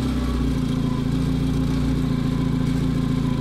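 A cogeneration generator set's engine runs with a steady, continuous low drone at constant loudness throughout, with no speech.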